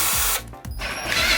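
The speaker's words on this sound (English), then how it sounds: "I just whacked one of these in the drill and then they come out nice and easy." Power drill whirring as it spins out Loctite-secured bolts during an ebike conversion of a Trek Marlin 5, loud and close, in two bursts with the motor pitch dipping under load.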